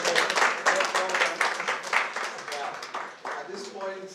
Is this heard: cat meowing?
no